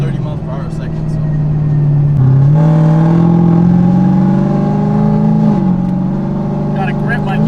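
A ProCharger-supercharged car with a nitrous setup, heard from inside on a ride-along, accelerating hard with a loud, steady engine drone that climbs in pitch through the run, with a brief shift-like dip midway.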